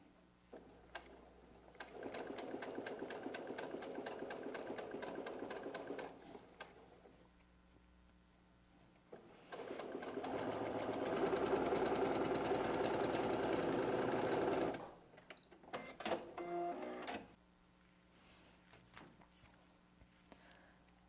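A sewing machine stitches a fabric bag lining in two long runs of steady, fast mechanical whirring, separated by a quiet pause, then some brief handling clicks and rustles; faint and unaccompanied by talk.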